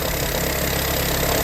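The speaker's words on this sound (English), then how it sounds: "This is a cold start. Just listen to the idle for a few seconds." A VW/Škoda 1.0 TSI three-cylinder engine idles steadily after a cold start, a close, continuous mechanical hum with a faint rhythmic ticking running underneath.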